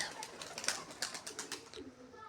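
Pigeons coo softly in a loft alongside newly hatched squabs, a faint low murmur under a series of brighter clatters and rustles that stop shortly before the end.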